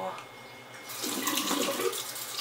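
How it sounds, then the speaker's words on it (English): Tap water starts running partway through, a steady close splashing stream as a knife is rinsed off, after a quiet start with faint room sound. "You can just wash off your knife and get going again."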